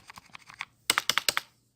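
Typing on a computer keyboard: a few soft keystrokes, a short pause, then a quick louder run of about eight clicks, close and alone.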